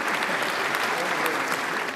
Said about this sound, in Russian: Давайте им похлопаем.